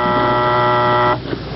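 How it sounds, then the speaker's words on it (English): Fire station alarm at the Kansas City Fire Department in the 1970s, a loud, steady electric buzz that holds for about a second and then cuts off abruptly. "when the alarm sounds at the fire station"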